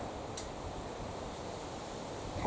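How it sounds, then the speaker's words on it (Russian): Strong wind at sea while young racing pigeons are tossed, a steady broadband roar and buffeting against the microphone, continuous and moderately loud with no voices. "Ветер, конечно, сильноват."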